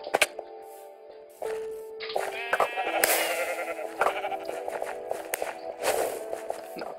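Blocky Minecraft sheep bleat several times during a Sheep Quest minigame, joined by footsteps, chopping clicks and other game effects at moderate loudness.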